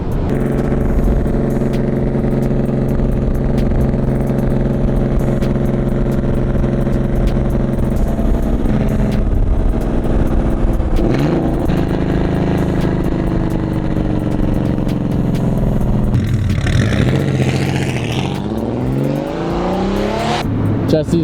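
A Porsche 964 pulls up with its engine rumbling steadily and a sweep of tone as it slows and shifts near the end, heard close with faint talk in the background.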